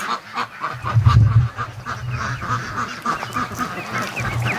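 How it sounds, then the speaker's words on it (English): Young ducklings at a backyard coop at dusk, a cluster of close quacks and peeping calls in irregular bursts, moderately loud with faint background movement. "the ducklings are they're going in without any coaxing tonight already"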